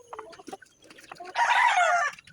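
A rooster crows once, loud and close, after a few brief clucks and scattered bird noises.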